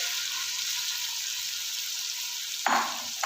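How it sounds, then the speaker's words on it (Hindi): Chicken frying with spices for yakhni pulao, a steady hissing sizzle with a brief louder stir or scrape near the end. "कुछ सेकंड तक इसको भून लेना है।"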